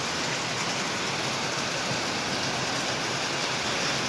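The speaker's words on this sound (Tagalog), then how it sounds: "Super lakas po ng ulan ngayon." Heavy rain pours down during a summer downpour, a dense, steady roar of water with no pauses that fills the whole span, close and fairly loud, with no voices.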